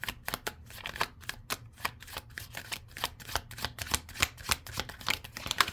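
Tarot cards being shuffled close by, a steady run of crisp riffling flicks and soft slaps repeating about twice a second, with no talk over them.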